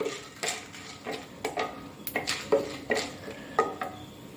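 Urad dal and two dried red chillies roasting in a hot pan, with a quiet scraping stir and intermittent clinks of a utensil against the metal pan, alone with no talk.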